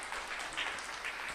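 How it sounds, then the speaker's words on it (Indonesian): Audience applause at a spiritual teaching gathering: a short, steady patter of many hands clapping, fairly quiet and without voices over it. "Tepuk tangan."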